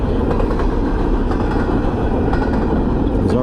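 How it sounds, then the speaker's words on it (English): Freight train rolling alongside a road, heard as a loud, steady rumble of rail wheels and cars that runs throughout at close range, with faint clicking over it. "So now we're stuck behind the same train for the second time."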